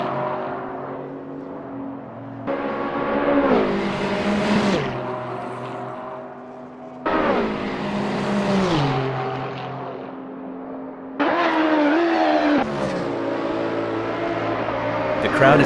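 LMDh hybrid prototype race cars in Assetto Corsa at Road America, engines roaring and revving in repeated surges, with pitch climbing and dropping as they accelerate and shift, loud and close throughout.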